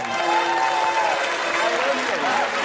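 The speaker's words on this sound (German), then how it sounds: "Applaus" Studio audience applause on a German TV comedy show, a dense, steady clapping wash at even loudness throughout, with faint tonal music lines running underneath.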